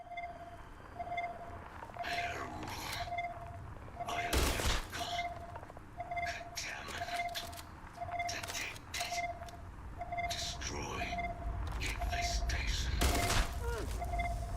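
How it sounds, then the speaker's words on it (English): Gunfire in the space video game Starfield, with repeated bursts and sharp shots scattered across the clip over a steady periodic beeping tone and game noise, with a voice talking throughout. "somebody's shooting"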